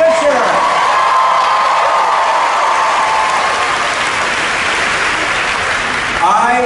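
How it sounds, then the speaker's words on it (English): A large audience at a Disney parks panel at the D23 Expo applauds and cheers for Jordan Fisher, a loud, dense, steady wash of clapping and whoops that fills the hall throughout. "How about another huge round of applause for Jordan Fisher?"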